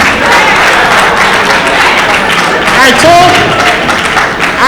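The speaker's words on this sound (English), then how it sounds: "you are clapping" Audience clapping at a ministerial press briefing, a steady dense patter of applause with voices and laughter mixed in throughout.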